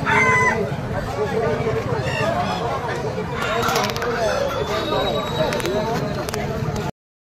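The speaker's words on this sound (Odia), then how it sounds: "ଏଠି ଡୁବରିଆ ହାଟରେ ଦେଖିପାରୁଥିବେ କୁକୁଡ଼ା ସବୁ ବିକ୍ରି ହେଉଛି" Chickens and roosters at the Duburi village market, with a rooster crowing and hens clucking amid steady crowd chatter and people talking nearby.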